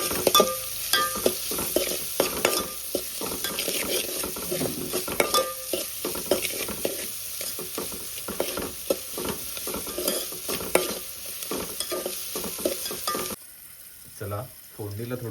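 Jackfruit vegetable with turmeric being stirred in a frying pan: steady sizzling with repeated close scraping and clinking strokes from the spoon, going quieter near the end.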